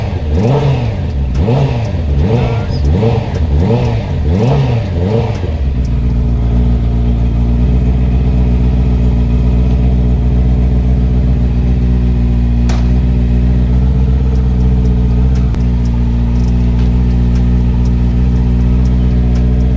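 A Honda CBR650R motorcycle engine revs on a dyno, rising and falling in quick repeated bursts for several seconds, then settling into a loud, steady high-rpm drone that holds to the end.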